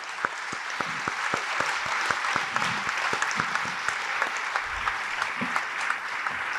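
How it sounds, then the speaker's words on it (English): An audience at a school board meeting ceremony applauds students and parents, a sustained round of even clapping with distinct nearby claps punctuating the crowd. "One more round of applause for all our students and parents this evening."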